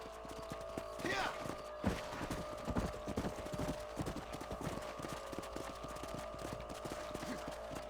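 Horse hooves clip-clop in the video game Red Dead Redemption, a steady rhythmic series of hoofbeats over a droning game backdrop, with a few louder thuds early on.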